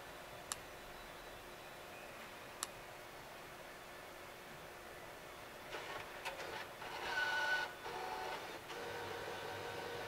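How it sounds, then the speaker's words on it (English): An Ithaca 850 printer inside a WMS Bluebird slot machine gives two sharp clicks, then whirs and buzzes through a short burst of printing. The sound is close but faint and carries no voices. "This has a Ithaca 850 printer."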